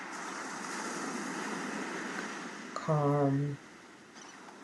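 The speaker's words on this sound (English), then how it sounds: "the sound of these waves" Ocean waves wash steadily onto the shore in a continuous soft roar, and a voice briefly speaks over them near the end.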